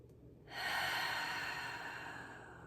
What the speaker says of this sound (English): take a deep inhale in again through the nose and a long extended exhale out